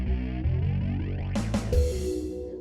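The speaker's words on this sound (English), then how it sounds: "That is actually Morse code." A distorted synthesizer plays a melody built from Morse code in 6/4, with sustained buzzing tones and a few sharp, bright stabs, processed with chorus and echo.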